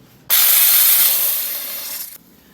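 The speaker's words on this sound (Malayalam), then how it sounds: "പ്രഷർ കുക്കറിൻ്റെ സ്റ്റീമൊക്കെ ഡൗണായി ഇതിനെ തുറക്കുകയാണ്" A pressure cooker holding dried tapioca is opened once its steam has gone down, giving a sudden loud hiss of venting steam that lasts about two seconds and then stops abruptly, with no voices.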